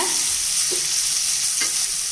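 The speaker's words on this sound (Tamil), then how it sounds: "தக்காளி சேர்த்து நல்லா பரட்டி விட்டுக்கலாங்க" Steady sizzling of onions and tomatoes stir-frying in a pan, with a couple of soft scraping stirs; no voices.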